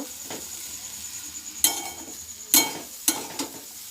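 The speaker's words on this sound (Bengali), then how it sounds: "খুব ভালোভাবে চিনিটাকেও আমি মিশিয়ে নেব সেমাইয়ের সাথে" A spoon stirs sugar into vermicelli in a pan while making sweet kheer. A few sharp scrapes and clinks against the metal stand out over a quiet background, with no talking.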